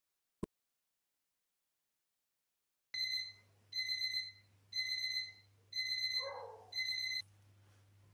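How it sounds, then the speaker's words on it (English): After a single sharp click, an electronic kitchen timer beeps in five evenly spaced bursts of high tones, fairly close, over a faint low hum. "Just got an alarm call there from my kitchen alarm."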